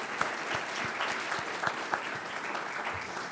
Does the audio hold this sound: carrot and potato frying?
no